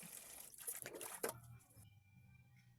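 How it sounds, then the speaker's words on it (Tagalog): Raw pork being washed in a kitchen, with splashing, running water for the first second and a half, followed by quieter dripping and a low hum. "hugasan lang natin yung baboy"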